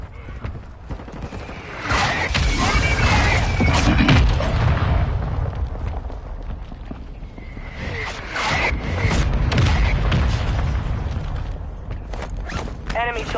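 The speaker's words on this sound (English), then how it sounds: "Mortar strike inbound now." Mortar strike explosions in a video game: loud booming impacts in two waves, each rolling and rumbling for a few seconds amid mechanical clatter, with game voices talking over them.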